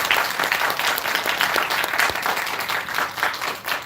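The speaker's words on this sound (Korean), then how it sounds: "가수를 위한 강의를 해주신 최영환 대님께 다시 한번 큰 박수 부탁드리겠습니다" A large audience applauds after a motivational business lecture on success steps and counseling, the clapping dense and sustained with broadband texture, steady loudness throughout, close and continuous without pauses.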